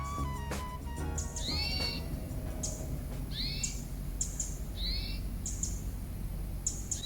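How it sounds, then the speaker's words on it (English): Several birds call through a Sitka spruce forest in Haida Gwaii, with repeated whistled chirps and sweeping notes over a steady low ambient rumble; no talking. "You hear all these crazy birds or something?"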